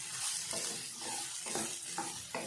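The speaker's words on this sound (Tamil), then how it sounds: "எல்லாம் சேர்த்து இதையும் சேர்த்தி நல்லா வதக்கி விடலாம்" Ridge gourd and onion sautéing in oil, a soft sizzle under repeated stirring scrapes and strokes at an even rhythm, fairly quiet and close, with no talking.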